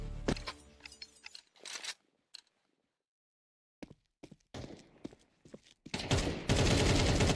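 Video game gunfire during a league match, bursts of rapid shots and sharp single cracks separated by a pause, ending in sustained loud firing.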